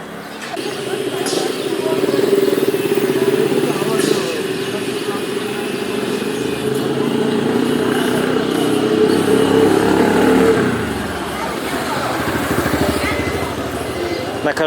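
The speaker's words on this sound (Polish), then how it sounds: "Widzicie, jak chłopaki kręcą motory." Motorcycle engines revved by mechanics at a roadside workshop in Nepal, a steady mid-pitched engine drone that swells and sustains for several seconds before easing off, with people talking nearby.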